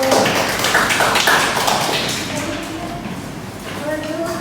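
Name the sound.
classroom applause for a presenting group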